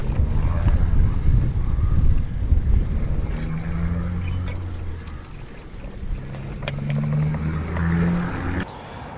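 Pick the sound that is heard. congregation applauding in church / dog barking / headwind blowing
headwind blowing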